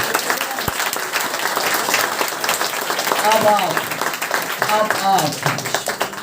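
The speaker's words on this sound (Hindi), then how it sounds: "प्रभु के लिए तालियां ना हो जाए एक बार" Congregation at a Sunday prayer service applauding steadily throughout, dense clapping with a few voices calling out over it.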